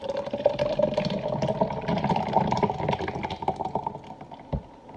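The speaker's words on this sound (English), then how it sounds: "we're gonna pour our drink." A homemade smoothie drink is poured into a cup, a steady gurgling, splashing liquid stream running for several seconds with small knocks and clatter, ending in a single thud.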